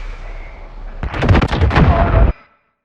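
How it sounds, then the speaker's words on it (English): Missile explosions and heavy gunfire from the Modern Warfare video game erupt abruptly in a loud, dense volley of booms and cracks lasting over a second before cutting off sharply. "Missiles incoming!"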